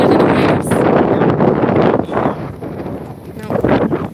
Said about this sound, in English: We have, it's nice and windy.